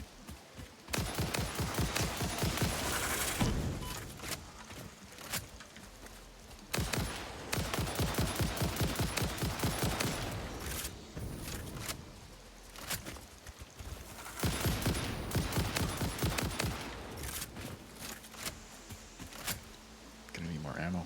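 Rapid rifle fire at hostile creatures in the Satisfactory video game, loud repeated bursts of shots with short pauses between volleys, a voice talking over parts of it.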